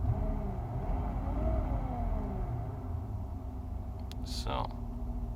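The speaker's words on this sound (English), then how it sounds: "The whole transmission is spinning like crazy." The transmission of a 2003 Mercedes S with a mechanical problem spins with a steady, close mechanical whir and rumble, a brief clank near the end, while someone talks over it.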